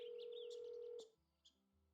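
A telephone in the video game Nancy Drew: Trail of the Twisters gives a steady, quiet dial tone that cuts off into a few soft beeps as a number is dialed.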